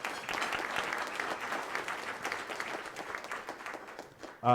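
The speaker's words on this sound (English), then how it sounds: "Please give a round of applause for the Community Foundation of Sarasota." An event audience applauds for the Community Foundation of Sarasota with brisk, scattered clapping that thins gradually before a voice cuts in abruptly at the end.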